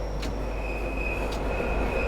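Bakerloo Line train in Train Sim World 2 running under braking, a steady low rumble of wheels and motors with a faint high whine, no talk over it.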